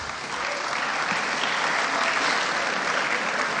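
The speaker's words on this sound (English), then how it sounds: "Might be better to hold your applause" Audience at a school boosters award ceremony claps in a dense, steady burst of applause that swells slightly and holds, filling the room without speech.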